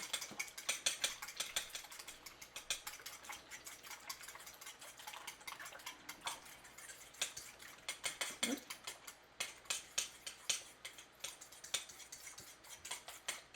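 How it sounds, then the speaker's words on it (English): Ingredients whisked in a bowl for a panko-crusted chicken dish, a rapid run of light metallic ticks and scrapes in irregular bursts, close but fairly quiet, with no voices. "So all I'm going to do here is just kind of whisk it, right?"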